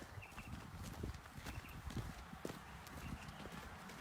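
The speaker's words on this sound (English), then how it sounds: "These are some of our horses." Horses walking inside an equestrian centre's stables, hooves clip-clopping in an irregular rhythm against faint background bustle, fairly quiet and steady throughout.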